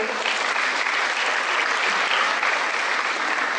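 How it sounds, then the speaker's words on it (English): Orientation audience applauding, a steady dense wash of many hands clapping, moderately loud and continuous for a few seconds. "So let's give yourselves a big round of applause on choosing really well."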